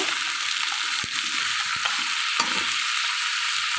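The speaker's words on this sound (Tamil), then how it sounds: "சின்ன வெங்காயம் பச்சை மிளகாய் தேங்காய் எல்லாத்தையும் சேர்த்துக்கலாம் நல்லா மண் மைய வந்துடும் எல்லாத்தையும் போட்டுக்கலாம் கொஞ்ச நேரம் கிளறி" Shallots, green chillies and grated coconut fry in a pan with a steady bright sizzle, while a spoon stirs through it, scraping and knocking a few times against the pan.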